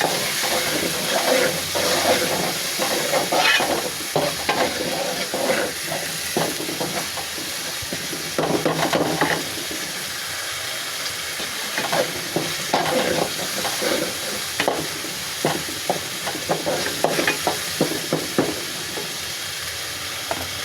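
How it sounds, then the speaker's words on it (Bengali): Spice paste fries in oil in a pan after a splash of water, giving a constant close sizzle with crackling pops and scraping stir sounds, no voices. "আমার মশলাটা ভাজা হয়ে গিয়েছে, তেল উপরে উঠে এসেছে"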